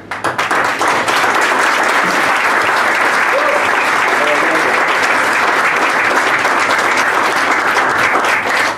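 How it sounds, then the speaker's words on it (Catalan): Sustained audience applause fills a public presentation of a yearly local almanac in Molins de Rei, a dense, steady wash of many hands clapping loudly and evenly throughout. "com a mínim un aplaudiment del públic"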